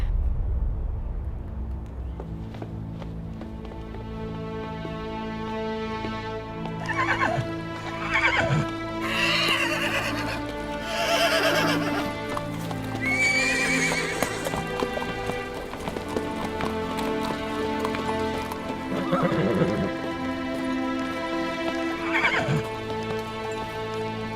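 A horse whinnies several times over steady clip-clopping hooves in a historical drama scene, loud and close, with music playing underneath throughout.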